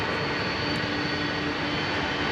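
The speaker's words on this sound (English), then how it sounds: "Listen to these engines, folks." Jet aircraft engines at London Heathrow Airport give a steady, loud, broadband roar with a thin whine on top, close by and unbroken, with no voices.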